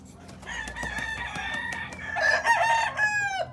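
Roosters crow near a crested hen (copetona) at a poultry stall, a loud drawn-out crow rising over softer clucking and background farm noise.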